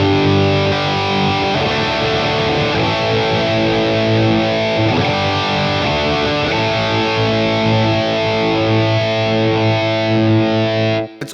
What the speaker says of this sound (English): now I'm actually boosting the Tube Screamer, which is now boosting the Klon as well.